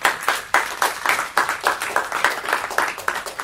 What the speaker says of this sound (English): can we have one final round of applause for all of the speakers?